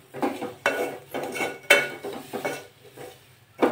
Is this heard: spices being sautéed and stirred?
yes